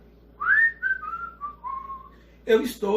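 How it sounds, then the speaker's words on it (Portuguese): A person whistles a short wavering melody of several sliding notes, followed by a brief burst of talking. "Nós conseguimos emitir som, por exemplo, quando você assobia"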